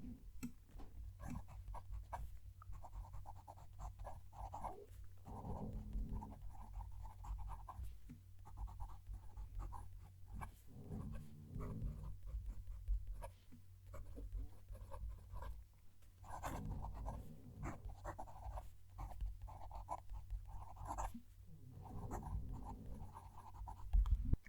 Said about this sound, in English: Going to move the mic down to the page so you can hear the pen write.